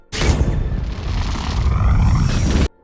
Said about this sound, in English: He uses the live wire to ignite the gas-filled room, setting off an explosion.